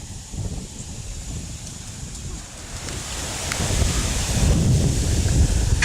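Strong wind buffets an outdoor microphone in a steady low roar that swells louder toward the end, with no voices.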